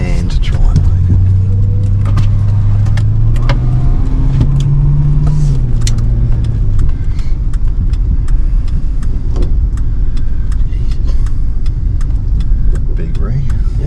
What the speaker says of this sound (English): We'll just go a quick block in the old Fairlane here